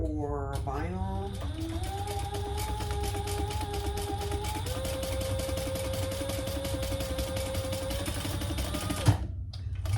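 A sewing machine stitches cotton quilting fabric at a stitch length of 3, running in a steady rapid mechanical chatter with whirring motor tones that shift pitch, close and continuous until it stops near the end.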